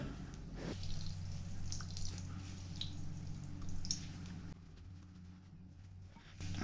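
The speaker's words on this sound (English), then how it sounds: "The better you can do wringing out your potato mixture or your potato onion mixture" Grated potato and onion mixture for latkes is squeezed and wrung out by hand, with faint, close drips and soft squishes of liquid over a low hum and no speech.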